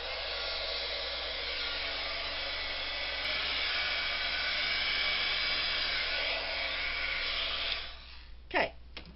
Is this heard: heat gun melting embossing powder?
yes